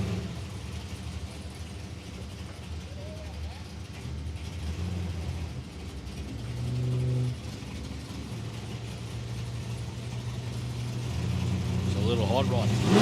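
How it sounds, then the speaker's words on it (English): Small hot rod drag car launching down the track at Palmyra Raceway, engine rumble swelling and building toward the end, heard at a distance under a commentator's voice. "It's a little hot rod."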